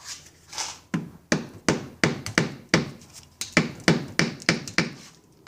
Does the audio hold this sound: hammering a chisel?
yes